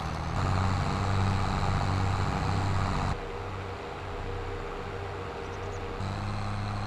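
A farm tractor engine in Farming Simulator drones steadily while driving, a loud low rumble with a clear tonal hum; the pitch drops partway through, then lifts again near the end, with no talk.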